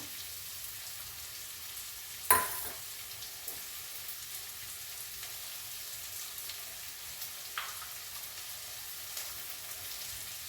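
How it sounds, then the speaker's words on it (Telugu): Soft, quiet sizzling of green chillies frying in a pan, a faint steady crackle with one sharp clink of a utensil early on. "ఇవి వేగుతూ ఉంటాయి కదా"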